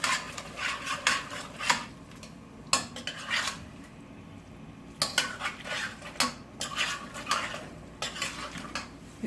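Beef qeema being stirred in a metal pan, a utensil scraping and clinking against the pan in uneven strokes over a soft background sizzle of frying meat, close and fairly quiet.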